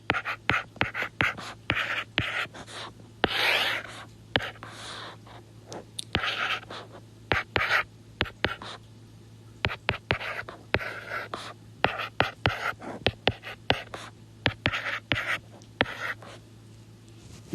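Pen or pencil writing out polynomial coefficients for synthetic division, heard as close, dry scratching strokes in short bursts with brief pauses between them.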